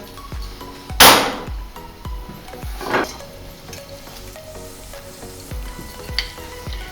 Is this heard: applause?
no